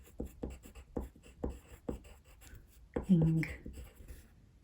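A pen writing on paper, making a series of close scratchy strokes in an uneven rhythm, with a person speaking briefly partway through.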